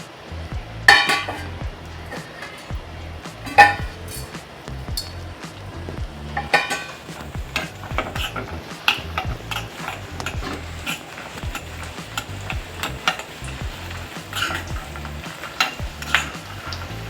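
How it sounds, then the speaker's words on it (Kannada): Urad dal and peanuts fry in oil in a pan for a Bisi Bele Bath, giving a steady close crackle and sizzle with occasional sharper ticks and scrapes of stirring. "ಉದ್ದಿನಬೇಳೆ ಮತ್ತು ಶೇಂಗಾ ಎಣ್ಣೆಯಲ್ಲಿ ಚೆನ್ನಾಗಿ ಫ್ರೈ ಆದಮೇಲೆ"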